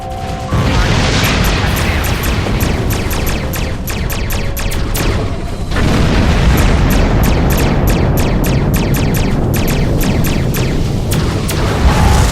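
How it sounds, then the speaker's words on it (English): Loud, continuous rumbling blasts of exploding spaceships in the sci-fi space battle game Star Trek Online, with rapid repeated crackling bursts layered over a heavy roar. "Ship explosions cause damage. Put some distance between yourself and exploding ships."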